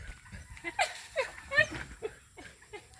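Playful pet dogs give a run of short yelps and whimpering barks at close range, uneven and excitable, with faint background noise between the outbursts.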